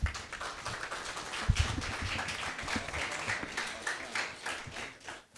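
A room full of people claps in welcome for a guest speaker at a public panel event in Xalatlaco, Mexico: steady, dense applause that holds for several seconds before tapering off near the end.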